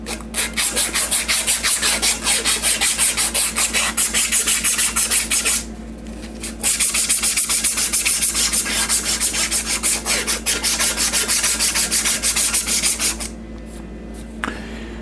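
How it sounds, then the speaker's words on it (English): Someone rubs 180 grit emery cloth back and forth over a steel spline to remove burrs, producing close, rhythmic rasping strokes with a short pause midway and another near the end. "we'll take some 180 grit emery cloth and we just remove those burrs"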